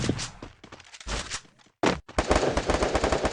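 Rapid bursts of gunfire crackle in the battle royale game Free Fire, sounding close, loud and repeated, with a brief pause partway through.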